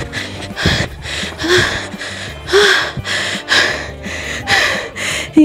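Heavy, rhythmic panting from a person who has just run along a wide road past fishponds on a farm: repeated gasping breaths roughly once a second, close and fairly loud, with no talking.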